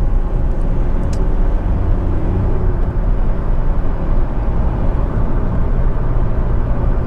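A Honda Civic 2.2 i-DTEC EX five-door diesel hatchback accelerates and then brakes, its engine and road noise a loud, steady low rumble heard from inside the cabin, with no talking.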